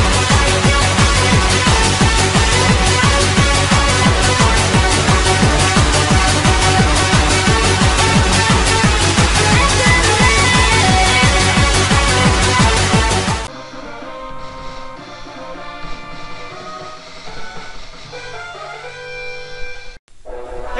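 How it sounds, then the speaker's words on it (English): Boss theme music from the video game Mega Man X plays loud and dense for about thirteen seconds, then drops to a quieter, thinner continuation of the track. "that sound was the boss theme from Mega Man X"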